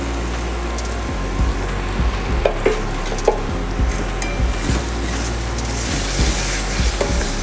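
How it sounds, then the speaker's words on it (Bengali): Spice paste with chili powder sizzles and fries loudly in a pan, a dense steady crackle close by, while a spoon scrapes and stirs in repeated knocks and scrapes. No one talks. "দেখো মশলাটা আমার খুব ভালোভাবে কষানো হয়ে গেছে"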